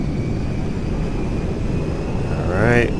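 B-1 bomber engines roaring at full throttle in the GTA 5 video game, a loud, steady jet rumble that swells slightly near the end, with a voice talking briefly over it.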